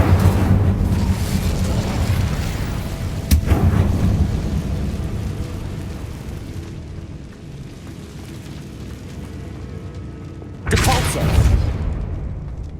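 The Incendio fire spell in Hogwarts Legacy blasts a barricade with a heavy booming burst, followed by a sustained roaring, crackling rumble and then a second loud blast near the end, with a voice speaking over it.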